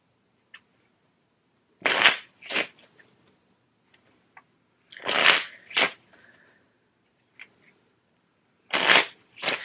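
Three separate bursts of cards being shuffled, each a quick riffle followed by a short bridge, close up with quiet pauses between them.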